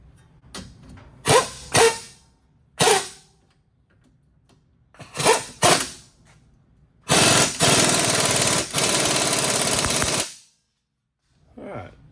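A power drill fires in several short, loud bursts tightening nuts while installing a lift kit on a Jeep Compass, then runs steadily for about three seconds, close by with no talking.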